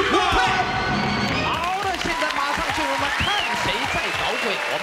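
Applause from a Taiwanese TV game-show studio audience, a steady dense clapping wash lasting the whole stretch with a few cheers mixed in, while a host speaks over it.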